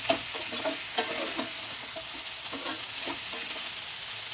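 Mutton pieces frying in a hot pan with no water left, sizzling steadily while a spoon stirs them in repeated scraping strokes, close up and alone without talk.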